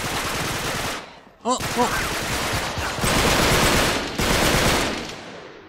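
Automatic AK rifle fire in Uncharted 3: Drake's Deception, dense sustained bursts that fill the scene with a brief gap in the middle, a player's short exclamation heard over the shooting.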